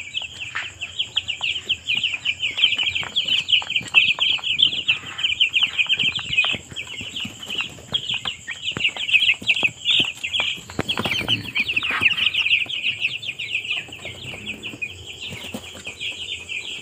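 Week-old chicks in a brooder chirp constantly in a dense, high-pitched chorus, with occasional wing flaps and soft clucks, loud and close throughout.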